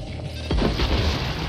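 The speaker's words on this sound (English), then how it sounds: "Y'all didn't hear that explosion?" A muffled explosion in the video game Deathloop, one deep boom with a crashing low rumble that rolls on for about a second.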